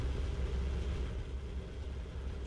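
Heavy British tank engine in the game Sprocket, a steady low rumbling drone held at an even, moderate rev without surges, continuous and unaccompanied by speech.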